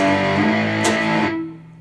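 A single distorted electric guitar power chord from a song's intro rings out with heavy sustain, then fades over a couple of seconds; no talking.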